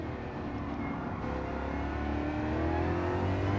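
A Ford Mustang Gr.3 race car in Gran Turismo 7 at Interlagos pulls hard out of a second-gear corner, its engine note rising steadily and growing louder over a few seconds, heard close and alone.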